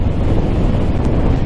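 Loud, steady wind roaring and buffeting against a microphone while riding a Harley-Davidson Street Bob 114 motorcycle across a bridge, a constant rushing blast with no talking.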